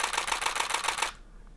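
Rapid burst from a Nikon D850 shutter in continuous high mode: about ten fast, crisp clacks in a tight, even rhythm, close and fairly loud, then abrupt silence.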